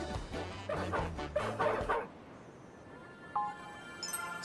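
A dog in the video game Dog Football barks and yips in a quick burst of several close barks, followed by a quieter stretch with faint game sounds.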